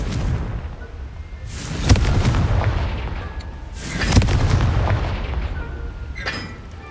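In Hogwarts Legacy, the Confringo fire spell detonates in two heavy booming blasts a couple of seconds apart, each with a rumbling tail, over a low continuous game ambience.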